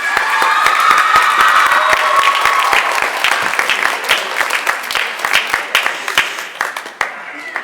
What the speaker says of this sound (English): So if we could give her a round of applause, that'd be excellent.